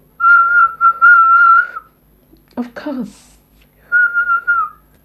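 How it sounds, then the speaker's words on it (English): A person whistles a sustained, clear tone, then a second phrase after a short spoken reply, loud and close in a quiet room. "Can you whistle?"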